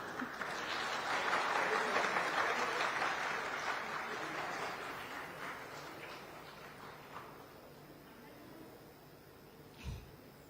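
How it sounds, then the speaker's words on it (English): A large conclave audience applauds the arrival of West Bengal's Chief Minister at India Today Conclave East, a broad, loud roll of clapping that gradually fades over ten seconds, with a brief bump near the end. "That applause can be louder."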